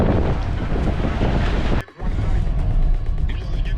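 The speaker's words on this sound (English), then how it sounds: "It got windy up here in the Cajon Pass and it's not good." Strong wind in the Cajon Pass buffets the microphone in a loud, roaring rumble, briefly dropping away for a moment before gusting back just as hard.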